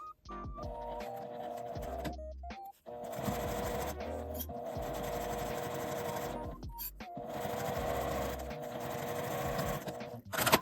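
A sewing machine runs in bursts as it stitches a seam on a lined fabric pouch, its motor whirring and needle clattering in two long runs with a brief pause between, close and fairly quiet.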